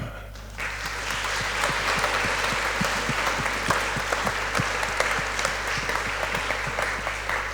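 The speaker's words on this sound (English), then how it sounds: "So sounds like we have to give now Kristjan a nice applause." Steady applause from a conference audience fills the hall after keynote speaker Kristjan Uba's evening talk, dense continuous clapping with a few louder individual claps, no voices over it.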